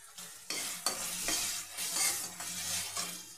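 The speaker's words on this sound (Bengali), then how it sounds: "আমি 5 মিনিট ঢেকে ঢেকে কষিয়ে নেব" Spiced masala for pea and potato ghugni sautéing in a pan, a steady close sizzle broken by repeated scraping stirs of a spoon against the pan, with no talk.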